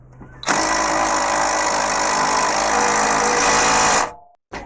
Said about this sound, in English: if you're using an impact like I am, you'll set the impact to a left-hand turn.